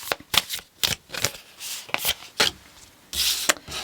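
Tarot cards are shuffled by hand close up, a run of quick papery riffles and rubs in uneven bursts, heard alone without talk.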